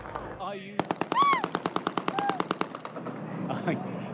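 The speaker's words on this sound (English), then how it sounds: "Despite the gunfire" Rapid bursts of automatic gunfire crack in a fast, regular rhythm, with shouting voices mixed in before and after the volley.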